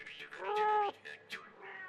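A skinny black cat in a children's Baba Yaga fairy tale gives one long, clear meow, then a few shorter mewing calls. The cartoon effect is close and distinct, with no talking over it.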